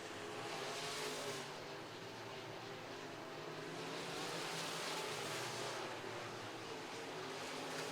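IMCA modified race cars circle a speedway oval during a Fall Nationals last-chance race, a steady, loud blanket of engine roar that swells and fades slightly as the pack passes, with no voices.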